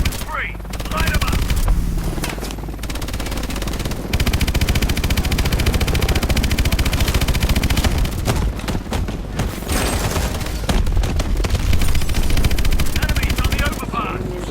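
Sustained automatic gunfire and explosions in the Call of Duty: Advanced Warfare Terminal mission, dense and loud throughout with rapid bursts under voiced radio chatter and a helicopter-like drone.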